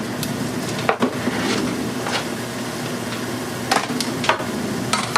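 Onions cook in a pan for a baked pasta red sauce and are kept moving so they don't brown, giving a steady low sizzle broken by a few sharp spoon scrapes and knocks against the pan, close by with no talking.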